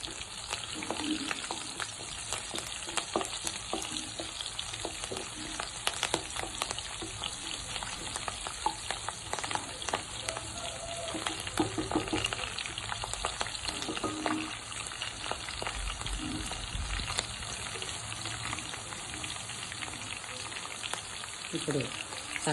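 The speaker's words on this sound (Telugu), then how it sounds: "కొంచెం జీలకర్ర, ఇప్పుడు పచ్చిమిర్చి కొంచెం ఫ్రై చేయించుకున్నాం." Cumin seeds and green chilies fry in a pan for a mushroom curry, a steady close sizzle and crackle with occasional stirring scrapes, fairly quiet throughout.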